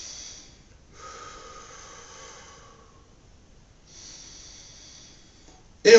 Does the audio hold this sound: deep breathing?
yes